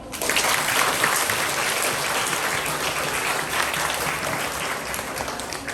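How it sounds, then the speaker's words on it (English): School presentation day crowd clapping for a student, dense sustained applause from many hands filling the room at a steady level for several seconds. "we give Lauren a big clap?"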